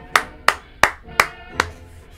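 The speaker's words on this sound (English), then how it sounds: "Okay, clap it up." Five sharp hand claps, evenly spaced about a third of a second apart and loud against a quiet background, the last one slightly softer.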